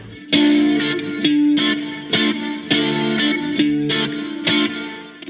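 Electric guitar plays a rock song rhythm part with effects and distortion, about eight short staccato strums with crisp gaps in a steady pattern, close and alone.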